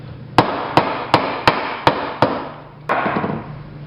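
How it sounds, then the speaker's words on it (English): A hammer taps the metal knuckles of a back scratcher in six sharp, evenly spaced close strikes, then lands one heavier final blow followed by a brief rattle. "so we use a hammer to fix that"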